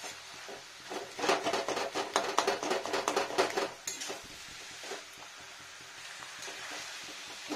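Cabbage and vegetables fry in a pan while a spatula stirs them, giving crisp sizzling with scraping, rhythmic stirring strokes, busiest early and then settling into quieter frying.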